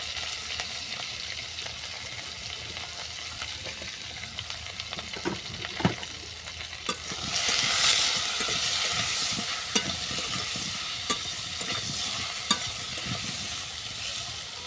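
Crab curry with salt and turmeric fries in a pan with a continuous sizzle and repeated stirring scrapes. The hiss swells louder partway through and then stays steady, with no one speaking.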